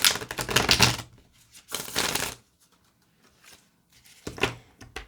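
Deviant Moon tarot cards being shuffled in two quick riffling bursts, then a pause and a shorter burst at the end; close, crisp paper flutter with no talking.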